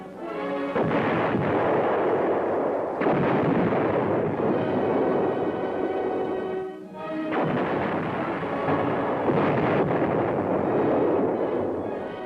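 Heavy, sustained booming blasts from an M60 Patton tank's 165mm cannon fill the whole stretch, with a brief lull near the middle before the rumbling fire resumes.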